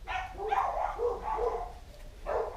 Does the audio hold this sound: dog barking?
yes